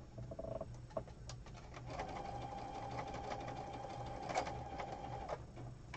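Sewing machine stitching paper pages for a junk journal, a quiet continuous mechanical whir with faint ticking, low in level throughout with some background noise, no talk.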